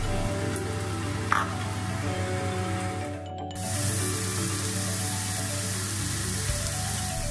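Onion fries in oil in a pan over medium heat with a steady, close hissing sizzle that carries on throughout, pausing for a moment partway before resuming at full strength.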